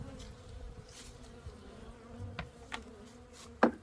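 Agitated honeybees buzzing steadily around an opened backyard hive, a close, continuous drone with a few sharper passes near the microphone.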